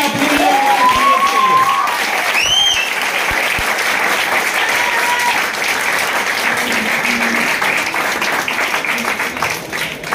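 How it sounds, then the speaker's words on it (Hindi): Loud applause from an audience at a branch champion-day event fills the whole stretch with dense, continuous clapping, with voices and cheering audible over it near the start. "कौन एक बार जोरदार ताली आपके लिए।"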